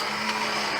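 An immersion blender whirring through a fondant mixture to break up crystals, a loud steady motor drone held throughout the brief moment with no talking.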